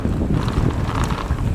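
Strong wind buffets the microphone on a trail near Richfield, Utah, in a constant low rumble and roar, with no voices heard.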